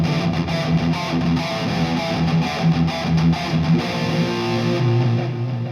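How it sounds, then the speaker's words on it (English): An electric guitar runs through the Lekato PA-1 pocket amp's Randall Satan-style distortion setting, a thick saturated tone with chugging palm-muted riffing in quick bursts, played alone and fairly loud. "Next is the Randy Devil Distortion. This is supposed to be a Randall Satan amp."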